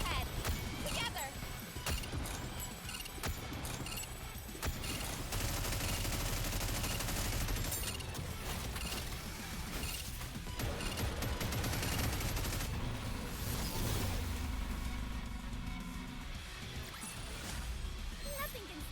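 Gunfire rings out in the video game Goddess of Victory: Nikke, dense bursts and rapid volleys mixed with music and effects, with character voices speaking throughout.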